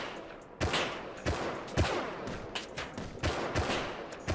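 Rapid gunfire from the survival game Rust, in a dense run of sharp bursts and single shots over several seconds, loud and close, with no talk over it.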